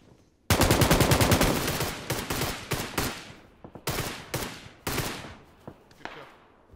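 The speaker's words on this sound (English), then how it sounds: "I'm getting shot with an AK" AK assault rifle fire in PUBG: a long loud automatic burst followed by several shorter bursts and scattered single shots, close and echoing, with no voices over it.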